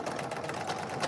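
A sewing machine runs a seam on fabric for cargo pants, a fast continuous mechanical whir close by, with no talking.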